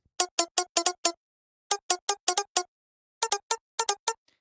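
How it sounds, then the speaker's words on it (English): Guitar sample resembling a Strat plugin, from a song recreation in FL Studio: short, bright plucked stabs in three quick rhythmic bursts separated by brief silences. "Now there's this funny guitar sample that kind of sounds like this."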